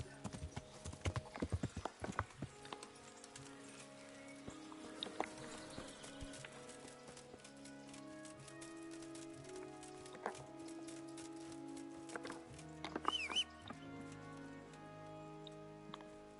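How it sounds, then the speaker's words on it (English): Horse hooves clip-clop in Kingdom Come: Deliverance, a steady run of close hoof strikes over a bed of game music, with a brief louder clatter near the end. "Fucking horses. Can't even get through doors."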